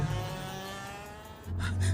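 A tiny movie car drives along with a low, steady engine hum that swells slightly toward the end, with no one talking.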